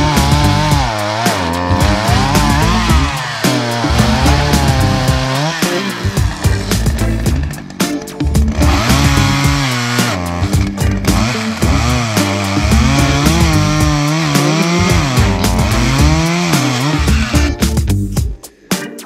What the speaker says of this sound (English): I already went and did some work with the chainsaw the other day